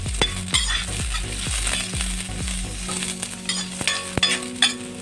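Onion fries in a little oil in a pan, with a steady sizzle and frequent knocks and clinks of a spoon against the metal, close and busy, with no speech.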